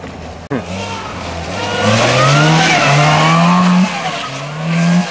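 A 1983 Toyota Tercel's engine revs hard and loud with rising and falling pitch, tires squealing as the car spins in reverse donuts, after a sharp thump at the start.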